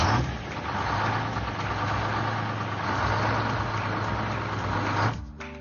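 An engine idling steadily at low pitch with a constant rumble for about five seconds, fairly loud and close, then abruptly cutting off at the end; no voices.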